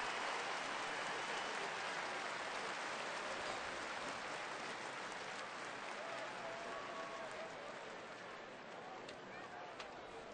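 Stadium crowd at a 2010 TCU versus San Diego State college football game applauding steadily as an injured player walks off, a dense, sustained wash of clapping and crowd noise that holds at a constant level and eases slightly toward the end.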